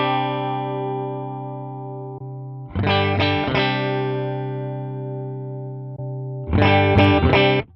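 A Valeton GP-5 amp modeler with a loaded cab impulse response shapes an electric guitar into sustained, saturated chords, with two bursts of strummed notes ringing out loud and clear between long held tones.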